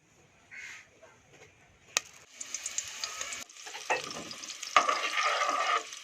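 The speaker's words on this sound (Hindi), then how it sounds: "इनको अच्छी तरह भून लें और जब ये ब्राउन हो जाए ना" Chopped onions fry in a pan with a soft sizzle that swells after a sharp clatter. Stirring scrapes and crackling grow louder and denser toward the end. The frying is close and moderately quiet.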